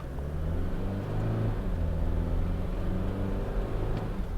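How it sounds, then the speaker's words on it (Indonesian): A Toyota Fortuner 2.8 GR pulls away from a standstill toward 100 km/h, its engine rumbling at moderate loudness with a steady drone that climbs gradually. "Start dari 0 berhenti, kita pengen tahu nyampe ke 100 tuh berapa detik"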